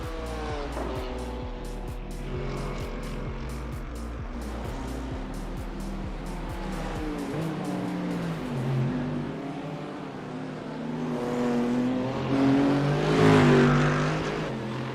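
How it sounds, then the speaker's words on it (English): A Mercedes race car at the Bathurst 12 Hour climbs the hill, its engine roaring with rapid gear changes and rising revs, then fading and swelling again as more cars pass. "that Mercedes does sound absolutely epic coming up the hill"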